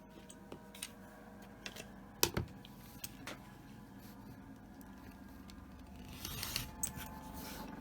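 Scissors snip through quilt fabric pieces in a quiet room, a few sharp close cuts and faint rustles in an uneven rhythm, with a louder stretch of handling noise near the end.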